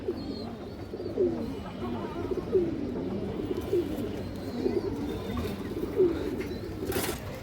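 A female pigeon on a farm coos in a steady, repeated rhythm of soft low calls, heard close against faint background noise.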